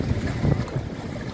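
Boats move across the pool beneath Chitrakote waterfall on a crowded Sunday, heard as a continuous rushing wash of water and wind noise, close and steady with no speech.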